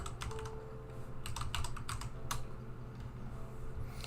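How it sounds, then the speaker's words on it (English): A short word is typed on a computer keyboard, with a quick run of crisp, close key clicks in irregular clusters over a quiet background. "So let's type in dollhouse."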